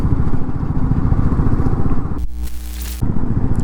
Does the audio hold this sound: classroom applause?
no